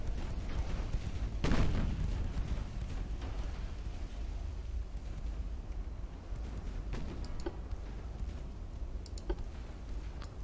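Torpedo detonation in a naval combat video game: one sharp, loud blast early on that fades into a rumbling tail. Scattered clicks and ticks from the game follow.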